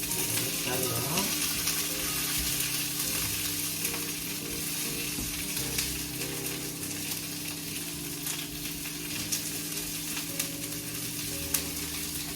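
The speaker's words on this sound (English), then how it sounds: "Then you're going to take your finocchio and just place it into the pan." Fennel pieces sizzle and fry steadily in a pan of hot oil with garlic, a continuous close crackle with occasional stirring scrapes and a few pops throughout.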